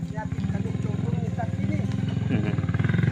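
A motorcycle engine labors up a rough mountain path, its loud, rapid, throbbing pulse holding steady and close throughout while someone talks over it.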